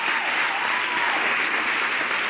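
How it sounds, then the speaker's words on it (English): Audience applause for a choir at a university graduation ceremony, a steady dense wash of clapping from many hands that holds evenly throughout with no voices over it. "Let's give our beautiful choir another round of applause"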